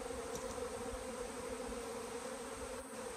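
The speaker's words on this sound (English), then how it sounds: "Nice bees as well." Honey bees buzz steadily around a hive frame holding a little honey, a continuous close drone with no voices.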